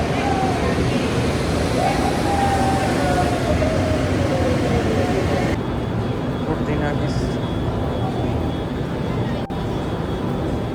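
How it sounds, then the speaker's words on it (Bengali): An old metro train rolls into a station with a loud, continuous rumbling roar and a faint rising whine, the sound shifting and thinning partway through as the train slows. "এটা একটা পুরোনো মেট্রো এলো।"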